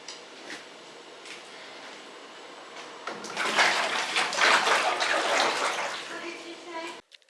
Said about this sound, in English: Oh, I splashed.